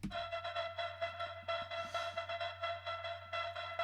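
A steady synth tone with a swirling, sweeping flanger effect from Shaperbox 3's Liquid module moving through its upper harmonics above 1.35 kHz, played alone at moderate volume.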